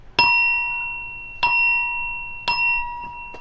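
A small bell is struck three times at a slow, even pace, each ring bright and clear and fading gradually, followed by a softer fourth tap.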